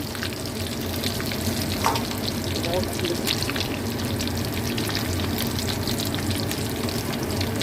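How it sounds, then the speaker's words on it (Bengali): Koftas deep fry in a pan of oil with a dense, steady, bubbling sizzle that stays loud and even throughout, with no talking. "এই কোপ্তাগুলো গড়া হয়ে গেছে, আমি এবার সব একে একে ভেজে নেবো"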